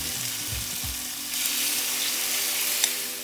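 Chicken pieces fry in hot oil, giving a steady, close, broadband sizzle that swells slightly midway, with a few low thumps and light stirring noises at the start.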